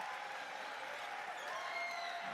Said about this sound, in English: a thunderous applause here for the sophomores, starters coming out